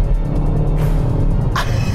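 Kia ProCeed GT with its 204 hp 1.6 turbo engine, a steady low engine rumble heard up close for a brief moment, with a couple of short higher bursts over it.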